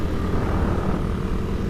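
A steady, rumbling engine of a 2014 Suzuki Satria FU motorcycle drones continuously while riding, loud and close with no break or talk.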